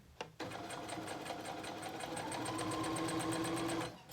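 Sewing machine stitching fabric for a rabbit toy, a close, steady rapid mechanical whirr with fast even needle clatter for several seconds, stopping at the end.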